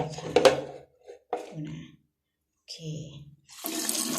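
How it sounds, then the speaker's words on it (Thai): Tap water runs in short, splashing spurts to refill a yogurt cup soaking durian seeds, stopping and starting with quiet pauses between. "เทน้ำทิ้งก่อนแล้วเดี๋ยวเปิดน้ำให้เขาใหม่"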